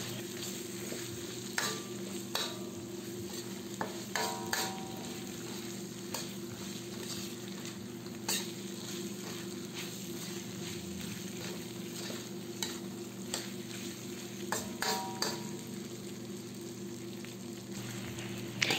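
Fried hotdog pieces stirred in a frying pan for a chicken and potato dish, a quiet steady sizzle with scattered spoon scrapes and taps against the pan, close with no talking.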